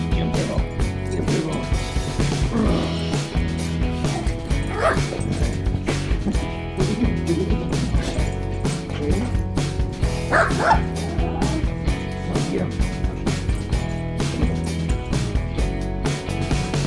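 A puppy yips, barks and whimpers in a steady stream of short, high cries over about seventeen seconds, close by, with a busy indoor background.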